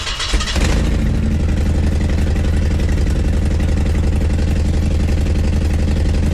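A van engine starts and settles into a steady, loud idle, its rough, throbbing exhaust note coming from a leak at the flange gasket, running close and alone without talk.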